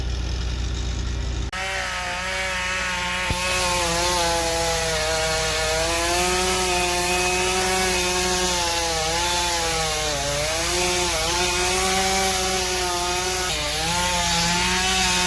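Chainsaw cutting into a tree during felling, a loud, sustained engine whine with shifting pitch that starts abruptly after a short lead-in and runs steadily to the end, close by.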